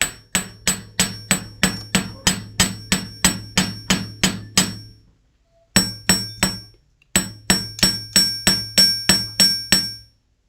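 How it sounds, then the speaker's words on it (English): Metal hammer blows strike a wire-woven pendant resting on a bench block, ringing sharp and close in quick even runs of about a dozen strikes, broken by a short pause, then two more bursts, with no talking. "And then just hammer out what you'd like."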